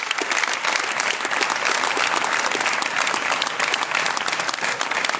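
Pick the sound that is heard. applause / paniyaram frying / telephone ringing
applause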